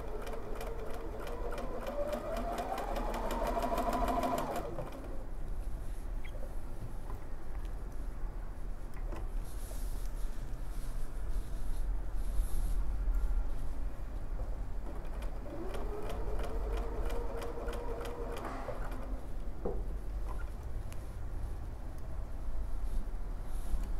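Light purple thread being stitched by an embroidery machine sewing a name, a fast steady needle chatter running throughout with brief whirring pitch sweeps near the start and again partway through.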